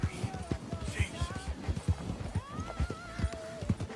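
Horse hooves clip-clop in a steady walking rhythm in Red Dead Redemption 2 as a rider reaches the town of Strawberry, close and clear, with whinnying sliding over the footfalls.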